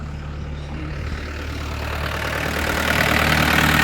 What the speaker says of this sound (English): First kick, beautiful diesel.